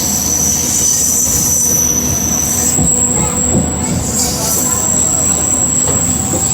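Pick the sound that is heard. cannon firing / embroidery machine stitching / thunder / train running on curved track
train running on curved track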